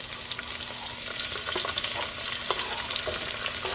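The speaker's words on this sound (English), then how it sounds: "I'm going to be adding me some shallots to my big old Jethro skillet" Shallots sizzle and crackle steadily in a cast iron skillet, a loud continuous frying hiss with scattered pops and occasional stirring scrapes, no voices over it.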